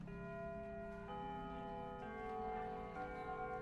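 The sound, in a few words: warning bell ringing in a visual novel video game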